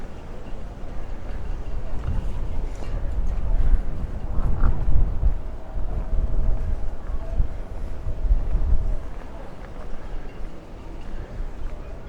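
Wind gusting across an open marina, a steady broad rush rising and falling around the microphone, with a faint tonal hum and a low murmur of distant voices underneath.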